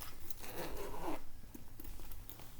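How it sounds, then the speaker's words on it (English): Zipper being pulled shut on a type 1 diabetes supply bag, a quiet, close, brisk rasping zip lasting under a second, followed by faint handling rustles, with no speech. "Make sure everything's zipped up in here. This is zip this one. Zip this one."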